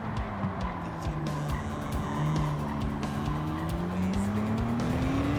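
A 1954 Jaguar D-Type laps a track in Gran Turismo 7, its engine note rising and falling steadily through gear changes, with tire squeal over corners, loud and continuous, with no talking.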